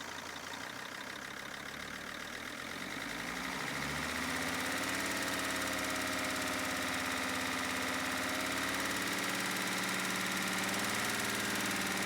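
Sprinter T1N diesel engine running close by, its steady clattering idle rising in pitch as it revs up and holds a higher, droning speed, with no voices.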